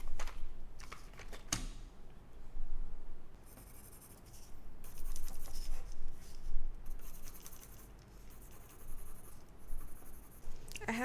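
Scratchy strokes of colored pencil on paper come in bursts of back-and-forth shading, close and fairly quiet, with a few short pauses between passes.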